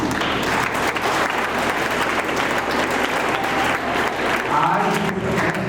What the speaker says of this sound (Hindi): जिनके पास मोबाइल है सभी के लिए तालियां